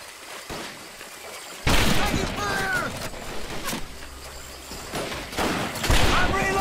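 Gunfire in the World War II shooter Medal of Honor: Pacific Assault, with loud rifle and machine-gun bursts arriving in clusters, mixed with shouting voices and battlefield noise.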